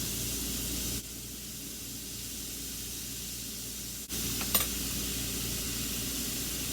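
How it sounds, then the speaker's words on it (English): Minute steak frying in a pan gives a steady, close sizzling hiss throughout, with a brief clatter about two-thirds of the way in and no talking. "You fry it, just keep churning it. Don't let it get too done, too crispy"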